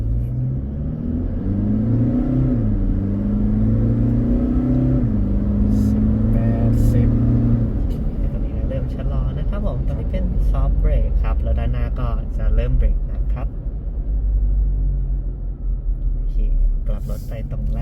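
A 224-horsepower Toyota Fortuner accelerates hard at full throttle, its engine drone climbing in pitch before settling into a loud, steady cabin rumble, with people talking over it.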